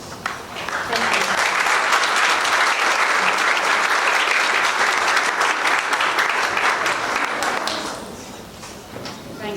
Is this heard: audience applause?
yes